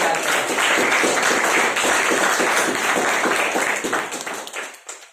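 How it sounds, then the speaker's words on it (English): Applause for a speaker at a speakers' forum: sustained, dense clapping from a seated audience that holds steady and then tapers off and fades out near the end. "so big round of applause for speaker"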